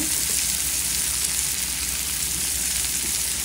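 Tomatoes frying lightly in a pan for a spicy tomato chutney, a steady close sizzle with soft stirring crackle throughout, no talking.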